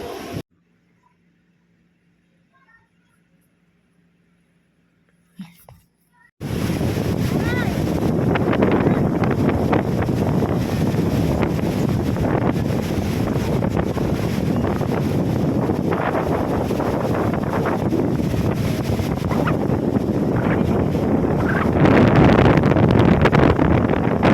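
Strong wind on a Boracay beach during a storm roars and buffets the microphone continuously after a brief quiet start, loud and steady with gusts toward the end.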